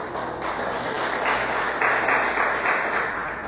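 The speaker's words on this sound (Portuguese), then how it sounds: "Você pode aplaudir o Senhor por isso?" A church congregation applauding together, a steady wash of many hands clapping that swells slightly midway and carries on without pause; a few louder individual claps stand out, with no voice over it.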